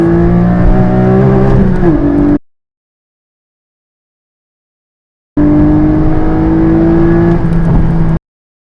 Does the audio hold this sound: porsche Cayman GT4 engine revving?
yes